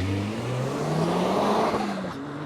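A turbocharged Mazda NC roadster launches hard off the line, its engine note climbing steadily in pitch as it accelerates, loud and continuous throughout.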